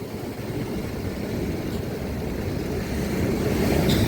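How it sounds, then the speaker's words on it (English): Ocean waves at Crystal Bay on Nusa Penida roll in as a steady, dense roar that builds slightly toward the end, with no voices. "The waves are quite big"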